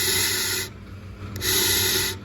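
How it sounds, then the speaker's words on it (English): Air blown through a handmade Gideon torch shofar with a 5mm airflow bore, giving two breathy, hissing rushes with a quieter pause between them, close and alone. "So for the flow of the air for this Gideon torch shofar, let's hear the airflow"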